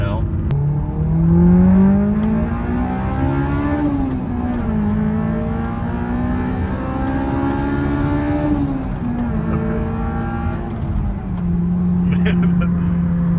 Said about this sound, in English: This is a really, really, really good sounding car.